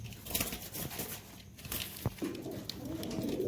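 Soft pigeon cooing against a low rustling background, with a brief sharp knock midway; the birds sound close but fairly quiet.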